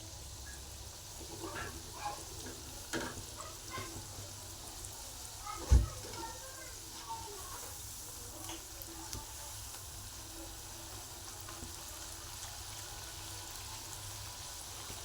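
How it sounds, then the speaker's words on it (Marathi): Onion bhaji pakoras deep-fry in hot oil over a high flame, a steady soft sizzle and bubbling throughout, with one brief clunk near the middle. "आता मोठ्या गॅसवरती छान लाल होईपर्यंत तळून घ्यायचे"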